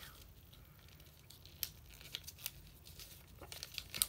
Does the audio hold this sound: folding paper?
yes